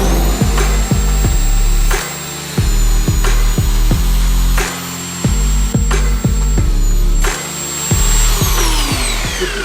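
A wood chisel ground on a heavily worn sanding belt, the belt sander's steady loud whine broken by repeated short grinding passes of the steel, each ending with a brief dip before the next stroke.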